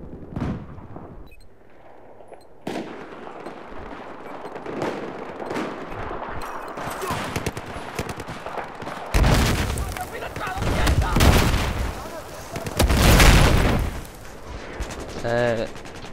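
Mortar fire and explosions in a video game, a scattered series of booms and shots that grow heavier and louder toward the end, with bursts of gunfire and a player's voice talking over parts of it.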